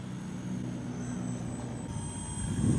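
An Esky 300 V2 Airwolf scale RC helicopter flies nearby, its steady rotor and motor whine droning continuously and swelling slightly louder toward the end.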